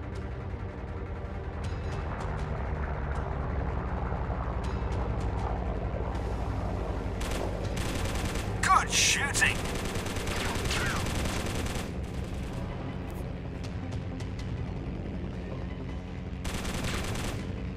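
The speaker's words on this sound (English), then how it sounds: "Shooting." Bursts of gunfire from the 303 Squadron: Battle of Britain flight game, set over a steady engine drone, with loud rattling volleys around the middle and near the end, while a voice talks now and then.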